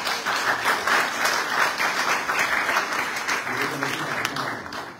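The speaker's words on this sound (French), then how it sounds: "Et on t'applaudit chaleureusement, Michel." Warm, sustained applause from an audience at a university cultural centre talk with philosopher Michel Onfray, a dense steady clatter of many hands filling the whole stretch with a slight fade at the end.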